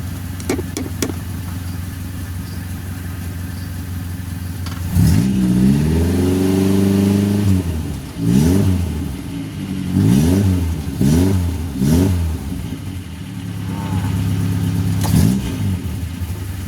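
A Suzuki Carry 1.0 small van engine fitted with an injection coil idles steadily, then revs up repeatedly in short bursts, rising and falling in pitch, loud and close with no talking.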